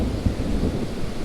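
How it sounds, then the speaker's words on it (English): Thunder during a rainy outdoor trout and crawfish fishing trip rumbles low and steady for a moment, one brief heavier thump near the start, wrapped in a dense wash of rain-like hiss. "I don't know if you guys can hear that thunder"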